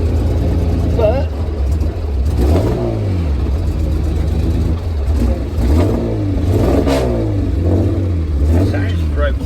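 A restored Jaguar E-Type 2+2 engine revving throatily, loud and close, with rising and falling rev sweeps repeating several times and some voices in the background.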